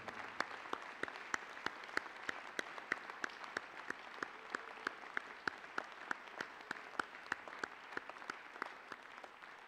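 Scattered applause at a church graduation commencement service, fairly faint and distant, with a few loud individual claps standing out in an uneven rhythm throughout.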